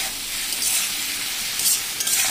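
Spice paste and water are stirred into morola fish frying in a pan, producing loud continuous sizzling and hissing throughout with soft stirring scrapes underneath.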